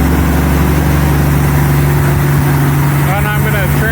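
A 1933 Auburn V12 boat tail Speedster, just started after decades in a museum, runs with a loud, steady low engine drone and hum close by throughout, a voice briefly audible near the end.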